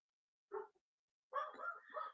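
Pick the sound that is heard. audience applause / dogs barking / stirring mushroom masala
dogs barking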